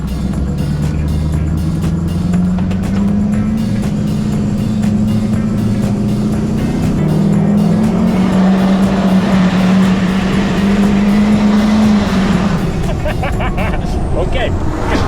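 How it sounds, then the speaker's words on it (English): An LBZ Duramax diesel engine swapped into an OBS truck drones steadily from inside the cab while driving, a loud low rumble rising and falling in pitch, with people talking over it. "Yeah, I'd say it sounds like an LBZ."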